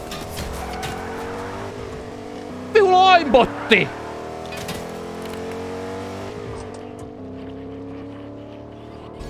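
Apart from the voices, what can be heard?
car driving in the video game Fortnite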